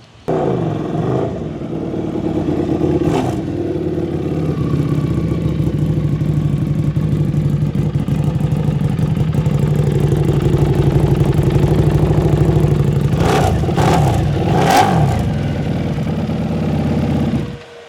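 A 2024 Buell Hammerhead motorcycle engine idles with a steady mid-pitched burble, punctuated by a few sharp throttle blips near the start and a cluster of quick revs near the end before cutting off, close and loud without speech.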